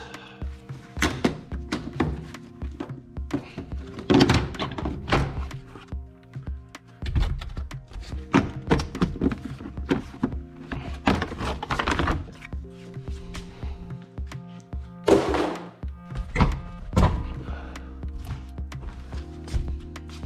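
Metal bolts from a JTCC race car chassis teardown clink and thunk as they are gathered by hand, a series of irregular close knocks and taps with brief pauses between bursts.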